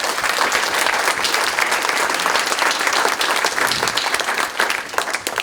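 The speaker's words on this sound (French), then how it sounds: "Donc je vous propose de les applaudir." Sustained audience applause at an HR conference, dense and steady clapping from a crowd filling the whole stretch, loud and close.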